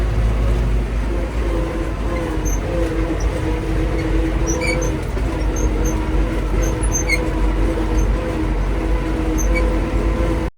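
A John Deere tractor with a sprayer driving through a soybean field during desiccation, its engine a loud, steady droning rumble with a tonal hum that runs unbroken for about ten seconds before cutting off.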